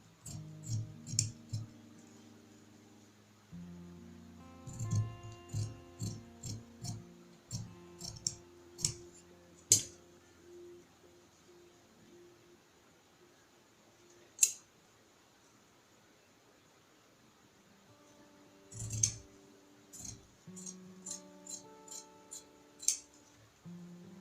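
Scissors cutting out fabric pattern pieces for a sewing project, a series of sharp close snips in short bursts separated by pauses, with light rustling of fabric and no talking.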